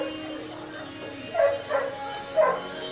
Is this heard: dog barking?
yes